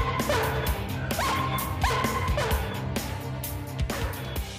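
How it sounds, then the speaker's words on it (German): A dog left alone in a house barks repeatedly and loudly, the sharp barks bunched in quick bursts against household background noise. "da geht schon mal das Gebelle los"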